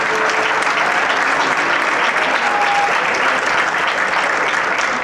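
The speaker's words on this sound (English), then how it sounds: "Clap for your folks." A concert audience at a school jazz band performance claps for the parents, a steady, dense and loud ovation that holds evenly throughout.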